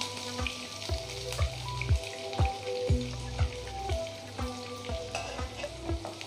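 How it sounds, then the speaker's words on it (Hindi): Chopped onions sizzle in hot oil in a pan as rajma is being prepared: a constant crackling fry punctuated by sharp, regular spoon knocks against the pan, close and fairly loud. "तेल गरम हो चुका है अच्छे से। अब हम इसमें प्याज डाल देंगे।"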